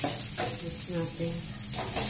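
Ground beef frying in a pan with onions as it is stirred, a steady close sizzle with scraping strokes of the utensil against the pan.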